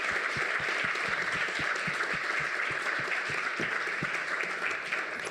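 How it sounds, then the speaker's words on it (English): An audience at a seminar in Manchester gives a panel a sustained round of applause, dense and even, with individual sharp claps standing out near the front. "And just another round of applause for Akemi Fox, Lady Ice, Drea Mack, KSR, and Sangu"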